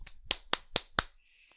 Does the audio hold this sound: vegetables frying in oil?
no